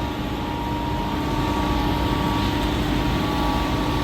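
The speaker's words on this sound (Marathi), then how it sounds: "तिथं सहा पंप आहेत मोठे मोठे" Six large water pumps at the Tembhu lift irrigation station near Karad, lifting Krishna River water, drone continuously at an even level, a deep mechanical rumble with a steady tonal whine running throughout.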